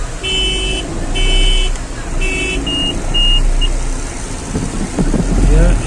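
Tractors gathered at a Sindhi culture tractor and camel rally in Mithi, Thar, with several short horn toots over a low engine rumble, wind buffeting the microphone and background voices.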